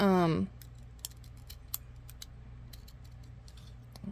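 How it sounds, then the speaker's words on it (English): Scissors snipping a paper leaf shape for a pumpkin craft, a few soft, sparse clicks and snips at close range after a brief voice at the start, over a low steady hum. "And I'm cutting down this leaf. Let's cut it down a little bit more."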